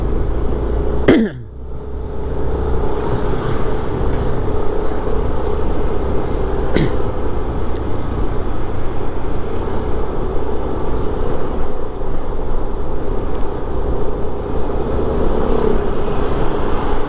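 Steady road traffic in a jam on Jalan Raya Basangkasa in Seminyak, Bali, with engines idling and rumbling close by, one brief passing whoosh early on, and a continuous low hum throughout with no talk.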